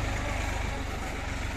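A Farmtrac Champion tractor engine idles steadily nearby with a low, pulsing rumble, continuous and fairly loud throughout.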